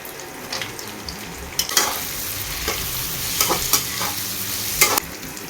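Beaten eggs seasoned with salt and pepper poured over salted prawns, sizzling steadily in a frying pan while being gently pushed around, with several sharper scraping stirs breaking through the continuous close fry.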